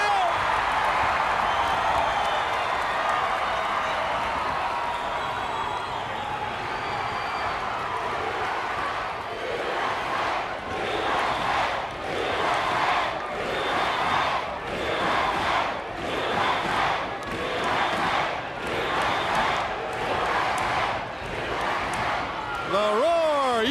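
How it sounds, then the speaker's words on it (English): Arena crowd at a six-man tag team pro wrestling match roars and cheers continuously, with rhythmic pulses of chanting and stomping through the middle and a commentator talking over the noise. "Listen to the crowd."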